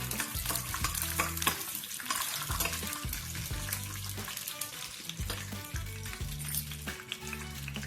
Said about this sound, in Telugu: అందులో గుప్పెడు వేరుశనగ పలుకులు వేసుకుని ఫ్రై చేసుకోవాలి